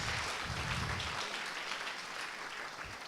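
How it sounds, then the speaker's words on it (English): A short burst of audience applause at an evening business event, many hands clapping steadily at moderate distance for a few seconds. "give First Security a big round of applause"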